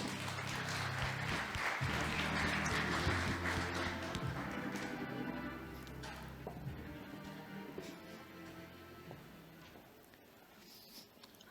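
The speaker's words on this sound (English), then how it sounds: "Please welcome them on stage with a warm round of applause" Crowd applause welcoming a team onto the stage at a founders' pitch battle semi-final, moderately loud clapping that gradually thins and fades over about ten seconds, with some murmuring underneath.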